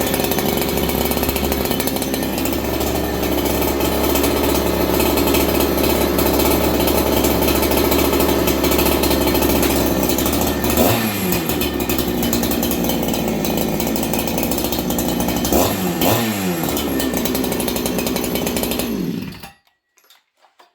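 A ported Husqvarna 288xp work chainsaw starts after sitting, then runs loud and close. It holds a steady buzzing roar with two brief revs or dips in the middle before it cuts off abruptly near the end.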